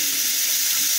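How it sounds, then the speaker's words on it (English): Hot water streams steadily from a tap, rinsing the top of a foaming hand wash dispenser bottle, a close, continuous hissing splash with no voices. "And rinse that out with hot water."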